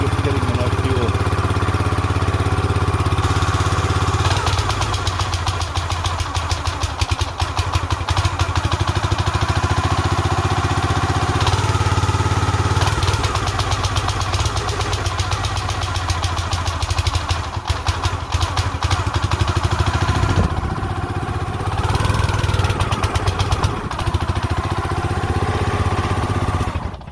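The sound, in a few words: log splitter engine idling and revving unevenly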